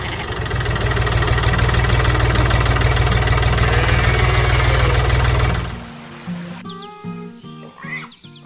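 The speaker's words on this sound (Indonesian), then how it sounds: "Traktor merah di tengah ladang padi kuning yang mengilap. Suara mesinnya menggelegar" A heavy diesel tractor engine chugs loudly and steadily at close range in a rice field, then cuts off, leaving quieter clanks and light background sounds.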